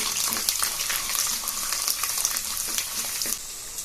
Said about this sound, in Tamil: இது கூட 10 பல் பூண்டு சேர்த்துக்குவோம். கொஞ்சம் வதங்கட்டும்.